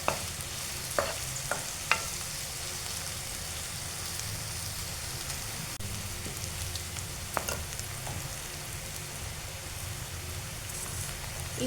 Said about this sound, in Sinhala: ඊළඟට හොඳට කලවම් කරලා ටික වෙලාවක් ඒකත් ටෙම්පරාදු වෙන්න තියෙනවා.